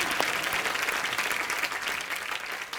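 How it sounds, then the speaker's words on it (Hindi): A studio audience at The Kapil Sharma Show, an Indian comedy talk show, applauds the star cast in a steady, loud, continuous wash of clapping with crowd noise throughout. "मोमो के धागे की स्टार कास्ट के लिए तालियां"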